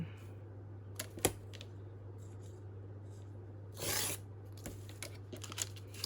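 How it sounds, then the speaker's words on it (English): A short, close rasping rip as 12-inch craft paper is torn for junk journal pocket flips, set among scattered soft rustles and taps over a steady low hum. "I'm just going to tear them"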